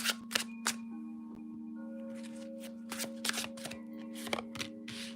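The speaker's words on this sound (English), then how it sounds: "So let's get some cards going on here." Tarot cards being shuffled by hand outdoors, a rapid riffling flutter broken into repeated bursts, with a steady low hum and a faint high tone running underneath, no voices.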